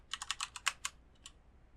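A short run of quick, crisp keystrokes on a computer keyboard, about eight close taps in an uneven rhythm, then a pause and one or two final clicks, quiet and alone.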